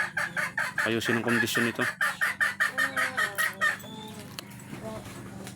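Hens cluck in quick repeated bursts close by, with a rooster-like call mixed in, then fade to softer scattered clucks while a voice speaks briefly.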